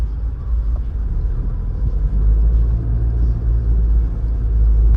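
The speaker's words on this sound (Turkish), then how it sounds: "Hadi sizi Maslak trafiğine de sokmadım demeyelim." Road traffic in Maslak, Istanbul: a continuous low engine rumble and passing-car drone heard from inside a vehicle, steady and fairly loud with no speech.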